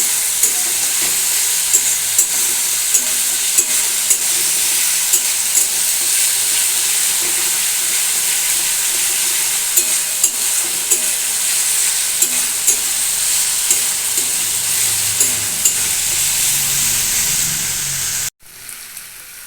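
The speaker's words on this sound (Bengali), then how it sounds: "দিয়ে দিলাম আদা রসুনের পেস্ট এটাকে একটু ভালো করে আমি ভেজে নেব" Ginger-garlic paste fries in a pan for a village-style green jackfruit curry, a loud, steady sizzle and hiss with occasional stirring scrapes throughout, cutting off abruptly near the end.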